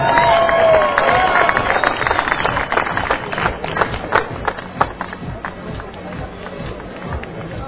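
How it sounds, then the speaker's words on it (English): A large boxing weigh-in crowd at Cowboys Stadium greets an Academy Award-winning actor with loud, sustained applause, cheering and whistles, dense and continuous throughout. "A round of applause for a man who's been in many, many motion pictures"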